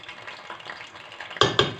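Soaked semolina hits hot oil and fries in a pan, a soft close crackle and bubbling that builds into two sharp metallic clanks of a spoon against the pan near the end.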